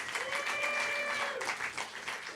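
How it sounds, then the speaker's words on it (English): An audience at a poetry anthology launch event applauds the book's contributors, a full burst of clapping from a roomful of people that stays strong for a couple of seconds. "Please, everyone, a round of applause for everybody who worked on the book."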